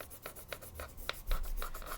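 A colored pencil shading on paper, faint rhythmic scratchy strokes repeating about every quarter second, close and quiet with no talking.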